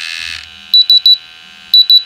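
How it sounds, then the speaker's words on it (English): Pump alarm on a Rae Systems gas detection instrument, loud shrill electronic beeps in two quick bursts of three, each burst evenly spaced and close, following a brief fading tone at the start. "So the pump alarm on the instrument."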